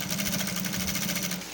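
Sewing machine stitching neck piping, a steady close mechanical whir with fast regular needle pulses, running alone for a moment without talk.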